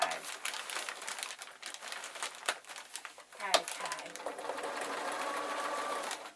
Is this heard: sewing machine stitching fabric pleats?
yes